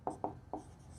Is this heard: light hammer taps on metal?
no